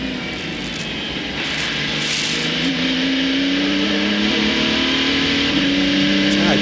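Diesel prototype sports race car engine at speed during an American Le Mans Series race at Mosport, a steady droning engine tone that rises gradually in pitch, with a commentator talking over it throughout.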